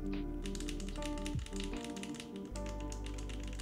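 Typing on a custom-built Bias mechanical keyboard gives dense, loud, rapid key clacks close up, running almost without a break over a steady low hum, with no one speaking.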